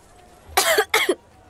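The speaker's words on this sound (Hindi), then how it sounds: "खांसी?" Two quick, harsh coughs in close succession, loud and near, against a quiet background.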